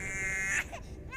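In a scene from the Hindi-dubbed film Pushpa, a baby's thin, high wail holds for just over half a second, then breaks off into a short whimper.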